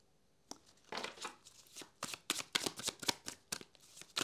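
Tarot cards shuffled and laid down during a love and partnership reading, a quick run of crisp papery riffles and slaps in an irregular rhythm, close and fairly soft, with no talking.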